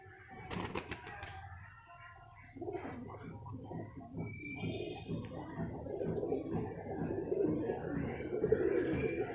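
Pigeons coo low and repeatedly, growing fuller over time, after a brief clatter at the start; nearby and fairly soft, with faint background murmur.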